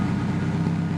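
A turbocharged VW Bug engine runs close by with a steady, throbbing low rumble, holding an even idle-like tone for the whole brief moment.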